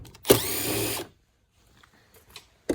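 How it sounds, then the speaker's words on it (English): A power tool whirs in one short close burst of about a second, removing door trim bolts on an Audi A5, followed by near silence and faint handling noises. "now we can remove the bolts"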